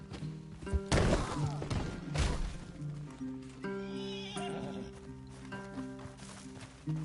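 Horses neigh and whinny loudly in a PS4 video game, with thudding hooves and shuffling between the calls, set against a sustained tonal music bed.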